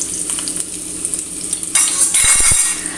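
Chopped small onions sizzle in hot coconut oil in a pan for a Kerala sardine dish, a steady close frying hiss that swells louder midway, with a few soft stirring knocks near the end.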